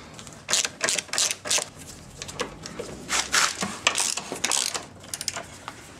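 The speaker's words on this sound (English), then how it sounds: "we need to remove these 3 bolts and this one nut that hold this bumper piece in place" A hand ratchet turns out bolts holding a bumper piece on a 2004 VW Passat, making close, rapid clicking bursts that start and stop repeatedly.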